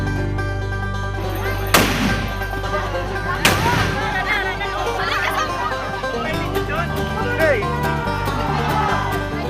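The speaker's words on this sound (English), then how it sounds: "cannon blasts rupture the air" Two booming cannon blasts ring out at a street festival in Bago City, each a sharp, loud crack with a rolling tail, while crowd chatter and children's voices continue in the background.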